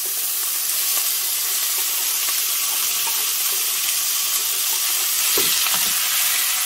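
Chicken cubes, red pepper and onion fry in a hot pan with a loud, steady sizzle that stays dense and unbroken throughout, with faint stirring scrapes underneath.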